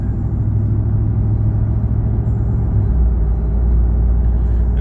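A Ram TRX pickup pulls away hard from a standstill, a loud, steady low engine roar close by, with a faint supercharger whine riding on top throughout.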